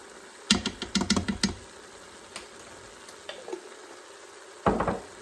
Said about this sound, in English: I'm going to mix that around and let that cook now.